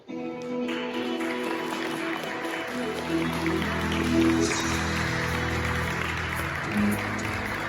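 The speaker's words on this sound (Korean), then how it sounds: "큰 박수로 맞아주시기 바랍니다" Applause from an audience at a Hyundai Motor Group hybrid technology presentation, steady and broad, with a crowd clapping continuously and building slightly midway, with some voices mixed in.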